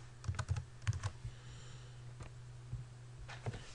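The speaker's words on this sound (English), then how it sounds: "I'll just make sure I type that in properly again." Password typed on a computer keyboard, a few quick close keystroke clicks in small bursts with pauses between them, fairly quiet against a faint steady room hum.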